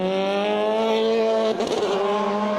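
A Formula BOSS race car at Mondello during qualifying, its engine holding a steady high-pitched whine, then dropping abruptly with a gear change and rumble, loud and close.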